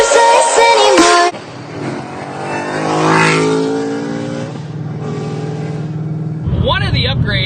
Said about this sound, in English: One of the upgrades that this car has is the upgrade to make the supercharger even louder